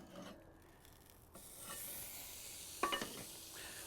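A tenderloin cheddar cheeseburger sizzles quietly on the high-heat side of a grill, a soft steady hiss that swells after a moment, with a brief scrape and clatter near the end.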